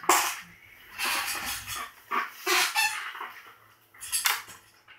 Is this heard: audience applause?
no